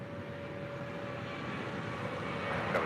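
A Boeing 747-400 jet taking off at Los Angeles International Airport, heard as a steady, distant engine roar with a faint constant tone that swells slightly toward the end.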